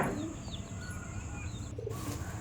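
Pigeons kept close to a home coo softly at close range, a low murmuring call joined by a few faint chirps, with no voices over them.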